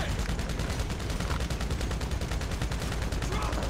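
Rapid, continuous gunfire from Grand Theft Auto V fills the whole stretch as a dense, even rattle of shots at steady loudness, like an automatic weapon firing without pause, with no clear speech over it.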